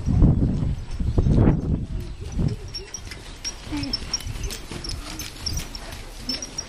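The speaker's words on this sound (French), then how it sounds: "il y a les autres chevaux qui passent" Hooves clop in a loose walking rhythm as horses pass at moderate distance, with faint outdoor noise and occasional birds around them.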